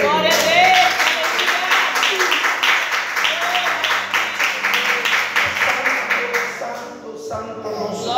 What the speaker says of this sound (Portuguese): Um aplauso para o nosso Criador